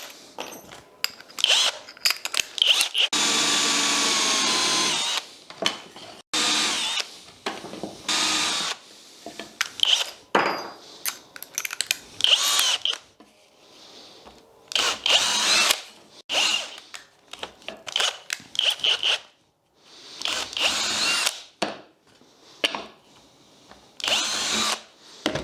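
A power drill boring holes for homemade DIY clamps, in repeated loud bursts of a few seconds each separated by short pauses, including one longer sustained run near the start, close and without talking.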